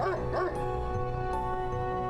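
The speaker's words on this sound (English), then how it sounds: "But the dog was barking like it had lost its mind." A dog barking and yipping frantically in the video game Spirit Hunter: NG, a few quick yelps at the start over a steady game music drone.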